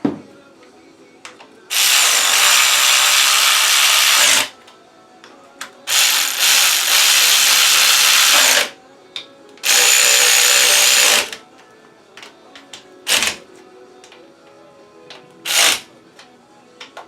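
Power tool, likely an impact driver, running bolts back into an LS 5.3/4.8 engine in several loud bursts of a few seconds each, separated by quiet gaps with small metallic clicks and clinks.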